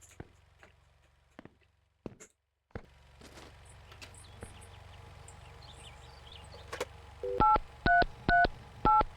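Telephone number being dialed in the video game Mon Bazou: a short run of distinct electronic keypad tones, evenly paced beeps near the end, following faint clicks and a low steady hum.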